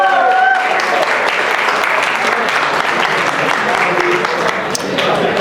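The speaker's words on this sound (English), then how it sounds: "Huge round of applause for them." A loud, sustained round of applause rises from the audience at a closing keynote as guests are called onto the stage. A brief voice is heard at the very start, then the clapping continues evenly to the end.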